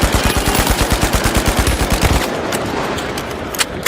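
Rapid automatic gunfire in the shooter game The Finals, a loud close burst of evenly spaced shots for about two seconds, then the firing stops and a few faint clicks and thuds follow.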